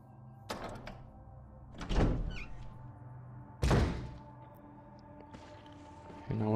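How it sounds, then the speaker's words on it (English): A heavy door opening in Resident Evil HD Remastered, heard as a sequence of close, low thunks and creaking clunks spread over several seconds against a quiet ambient hum. "So if we go through the door."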